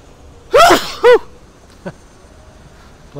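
Two sharp sneezes in quick succession, close and loud, followed by a faint short sound and quiet room noise.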